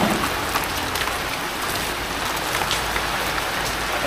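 Rain falls steadily as a loud, continuous hiss with scattered patters and no talking.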